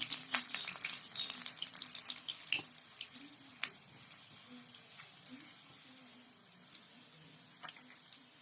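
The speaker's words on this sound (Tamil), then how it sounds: "வெங்காயம் கொஞ்சம் வதங்கினதுக்கப்புறம் 2 பட்டை வத்தல் சேர்த்துக்கலாம்." Onions and two dried red chillies frying in a pan for a drumstick buttermilk curry, a soft sizzle with scattered crackles and clinks, busier at first then settling into a quieter hiss.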